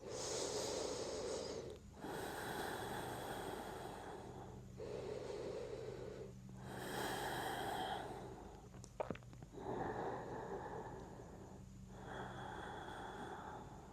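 Slow, deep yoga breathing during a gentle morning practice, with long airy inhales and exhales alternating steadily and close to the microphone, each lasting a couple of seconds, with no talking.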